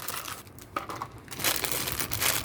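A plastic-wrapped package of Melek Gözü fishing line is opened close up, with irregular crinkling and tearing of the wrap that grows louder toward the end; no one speaks.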